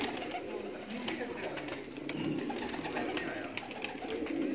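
Fancy breeder pigeons, a Teddy and a Lal Pari pair, coo softly amid a continuous chorus of bird calls and rustling, with people talking nearby.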